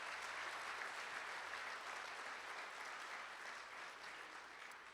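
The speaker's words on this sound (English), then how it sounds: "Give them a round of applause." A crowd applauds team members at a casino grand opening ceremony, a steady wash of clapping that fades gradually over several seconds, heard at a distance with no talk.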